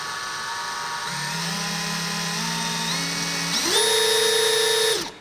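A Craftsman brushless hammer drill whirs as its trigger is squeezed, the motor whine stepping up in speed in stages and then cutting off sharply, close and alone without speech.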